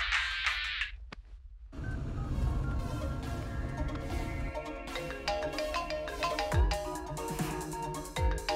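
A mobile phone ringtone chimes briefly at the start, then gives way to a dense musical film score with scattered effects, all at a moderate level.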